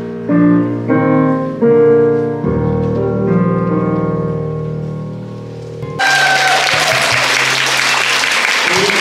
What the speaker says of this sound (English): a massive round of applause to KCC for putting this on